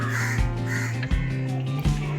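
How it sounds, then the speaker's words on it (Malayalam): Small crows near an iron pigeon cage caw loudly and close by, repeating harsh, nasal calls in a steady run with short breaks between them. "ഇത് ചെറിയ കാക്കകളാണ്."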